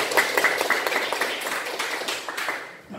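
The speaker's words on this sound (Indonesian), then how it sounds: "Tepuk tangan dulu." A secondary-school history class claps together in a classroom, a brisk burst of many hands that fades out after about three seconds.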